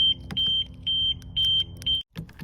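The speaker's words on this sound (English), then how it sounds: "The alarm will beep out to run its course twice." An Audi's alarm beeps in five evenly spaced, loud electronic tones, each lasting about a quarter second. A low engine or motor hum runs beneath them, and a brief clunk comes near the end.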